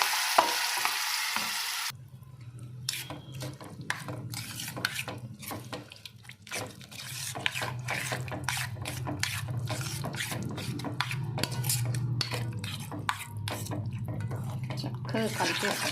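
Baingan bartha mixture being stirred in a pan with curry leaves just off the stove, a steady run of scraping and sizzling clicks from a spoon against the pan, close and continuous after a brief burst of other noise.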